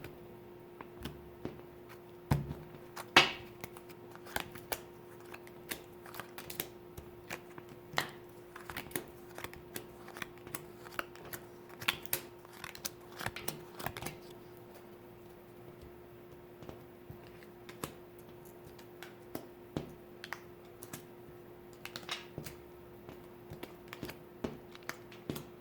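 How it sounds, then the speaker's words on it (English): Tarot cards are picked up and slid across a table by fingers without nails, giving soft, irregular taps and scrapes scattered over a long, quiet stretch under a faint steady background hum. "It's hard to pick up these cards on this table because I ain't got no nails."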